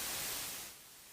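Harsh broadband static like TV snow, loud at first, then dropping to a steadier, softer hiss, with no voices.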